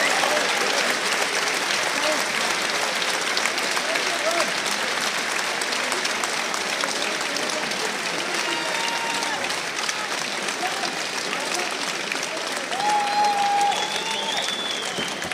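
Sustained, dense applause from a large arena crowd giving a standing ovation after an MMA bout at Castello in Düsseldorf, a steady roar of clapping and cheering with a commentator talking over it.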